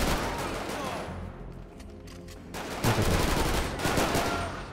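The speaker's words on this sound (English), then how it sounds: "The other guy is shooting, guys." Gunfire in the GTA 5 video game during a SWAT team mod, bursts of rapid shots with a quieter lull in the middle, then louder volleys that keep going to the end.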